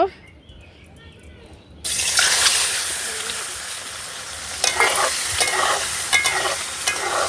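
Quail eggs hit hot oil in a new wok, a loud sizzle bursting in after a quiet moment and continuing with stirring scrapes and crackles.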